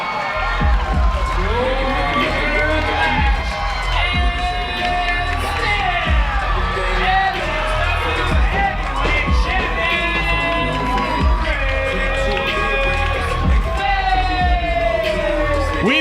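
A wrestling crowd erupts in sustained, loud cheering and shouting after the match-winning pin in a No Holds Barred bout between Karrion Kross and Chris Bey, with whistles and a commentator's voice blended into the roar.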